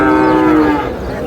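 A young Sahiwal bull calf being bought at a farm in Noakhali lets out one loud, close moo lasting under a second, then falls quiet.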